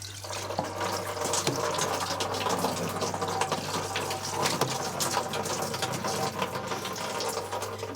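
Water runs steadily at a sink as something is washed off, a continuous close splashing rush with a low steady hum underneath and occasional knocks, with no talking.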